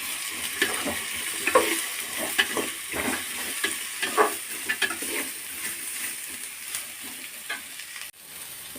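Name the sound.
frying masala in oil for chicken chops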